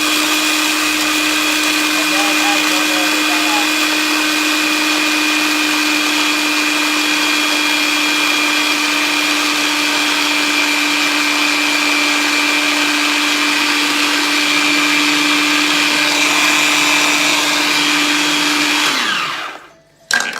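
A loud blender whirs in one steady, even drone while it crushes biscuits for a cheesecake base, then cuts off abruptly near the end.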